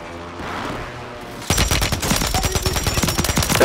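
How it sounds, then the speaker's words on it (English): Dense video game gunfire in a shootout, rapid automatic bursts starting abruptly after a quieter opening and continuing loud and close to the end. "There's a couple people shooting towards us."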